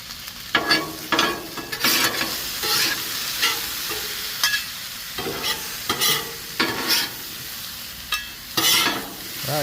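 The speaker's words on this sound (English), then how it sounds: "first thing we got to do is get a little olive oil down for our potatoes" Diced potatoes fry in olive oil with salt, pepper and garlic, giving a continuous sizzle broken by repeated bursts of stirring and scraping in the pan, close and fairly loud.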